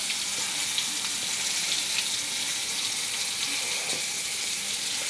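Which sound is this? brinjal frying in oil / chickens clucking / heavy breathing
brinjal frying in oil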